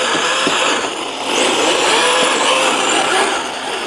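A small RC car's electric motor whines loudly and steadily while the car slides on its tyres, with a continuous broadband rush and slight surges in pitch throughout.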